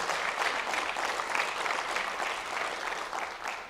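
Steady audience applause for FFA officers and members at a greenhouse rededication ceremony in a campus theater, a dense wash of many hands clapping evenly throughout at moderate level with no voices.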